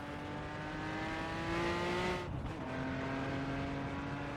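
A racing car engine drones steadily in the Assetto Corsa driving game on the 1975 Silverstone layout, a sustained buzzing note that shifts pitch with a brief dip as if changing gear, loud and continuous without talk.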